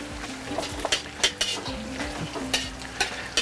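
Dried red chillies sizzle in a hot pan, with stirring scrapes and sharp metallic clinks in an irregular rhythm, close up and with no talking.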